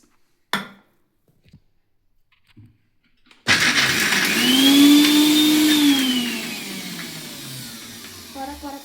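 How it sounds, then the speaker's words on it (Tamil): A mixer grinder whirs loudly as it grinds raw mango for a quick pickle, starting abruptly after a few faint kitchen knocks and running as a steady, near, high-pitched motor whine until the end. "அடுத்தது இந்த மாங்காயை அரைச்சிட்டு வந்துடலாம் ஃப்ரெண்ட்ஸ்"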